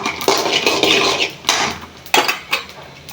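Mint chutney ingredients are scraped from a pan into a bowl, a spoon knocking and clanking against metal vessels in several loud, close strokes, with no talk.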